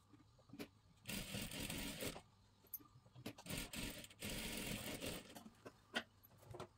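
A sewing machine runs a double stitch along a dress shoulder seam near the neckline, in several short bursts of whirring separated by pauses and faint handling clicks.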